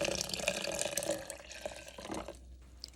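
Water pours from a vessel into a lemon raspberry lemonade, a splashing, trickling flow heard close and fairly quiet for about two seconds before it stops, followed by a brief clink at the end.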